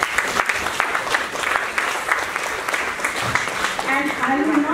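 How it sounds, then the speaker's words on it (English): Conference audience clapping to welcome panelists at a women's work conference, a moderate patter of hands in a hall, with a speaking voice coming in toward the end. "Give everybody a clap."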